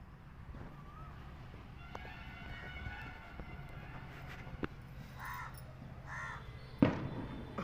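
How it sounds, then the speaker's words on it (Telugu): Many crows caw around a village house, with scattered calls near and far over a quiet outdoor background. "ఎన్ని కాకులు."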